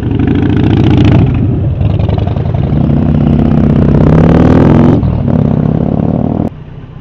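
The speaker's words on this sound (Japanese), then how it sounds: "対向車にもバイクいますね。" Motorcycle riding on a road in Japan in spring, loud close engine drone with shifting revs and wind buffeting, a brief gear change and easing off near the end, no talk.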